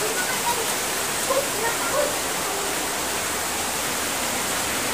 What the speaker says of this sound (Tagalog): So, patuloy pa rin yung ulan.